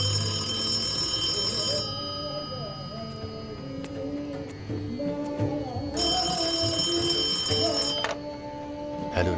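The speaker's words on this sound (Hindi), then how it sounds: "अब इस फोन की घंटी तभी बजती है जब तुम्हारा फोन आता" A telephone bell rings in repeated bursts, with tones starting and stopping in a regular pattern over soft music, while someone talks throughout.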